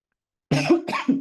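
Two sharp coughs in quick succession, close and loud, after a moment of silence.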